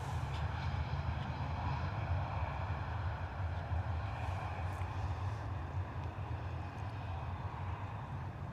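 An airliner departs London Stansted Airport, a steady broadband jet roar that holds at a distance for the whole stretch, with no voices.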